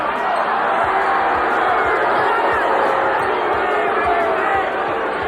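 A dense, loud roar from a boxing arena crowd at a Mike Tyson fight, with steady murmuring and shouting and faint low thumps beneath.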